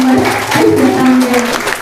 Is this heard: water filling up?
no